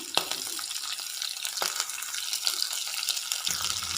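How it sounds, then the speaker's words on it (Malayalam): Two medium chopped onions sautéing in a pan for a papaya stir-fry, with a steady broadband sizzle and occasional stirring scrapes throughout, close and fairly loud, no talking. "സവാളയും കൂടി ഇട്ട് കൊടുത്തതിന് ശേഷം ഒന്ന് വഴറ്റി കൊടുക്കാം."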